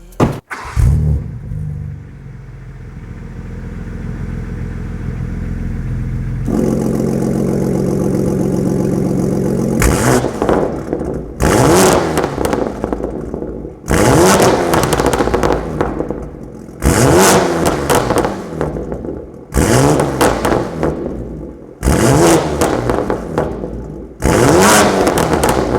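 Car from a private collection starting up and idling with a low steady rumble, then revved hard in repeated loud bursts with brief drops back to idle, recorded up close with no talk.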